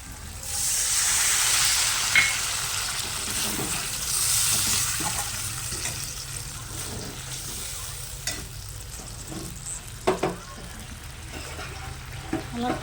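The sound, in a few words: water poured onto fried potatoes in a pan for fish curry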